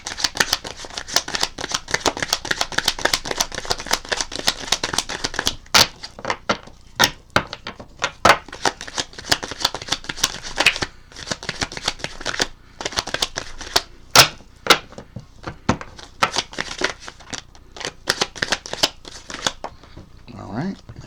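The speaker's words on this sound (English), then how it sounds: "let the cards fall where they may as I shuffle them" A deck of tarot cards is shuffled close up, giving repeated crisp riffles, slaps and taps in uneven bursts, with a voice talking over much of it.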